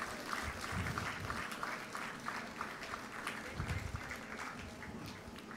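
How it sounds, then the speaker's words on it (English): Audience applause for guests at the opening plenary session of a conference, a steady dense clapping from a large seated crowd, moderately loud and continuous without a break, with a low rumble of the room beneath it. "let's give a round of applause for our esteemed guests."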